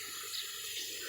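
Water from a garden hose gushes steadily over a row of plants, a constant close hiss of flowing water with no talking.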